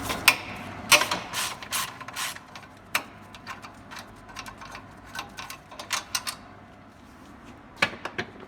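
Socket ratchet loosening exhaust bolts on a vehicle, rapid bursts of clicking pawl from close by, uneven rhythm with short pauses between strokes and a quieter stretch before a final few clicks.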